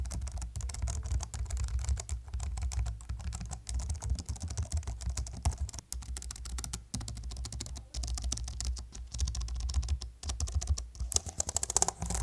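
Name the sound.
typing on Logitech MX Keys S keyboard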